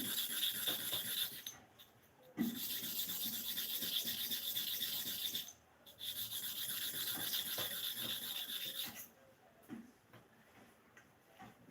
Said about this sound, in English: That's sharpening of the upper clipper blade for STAREX.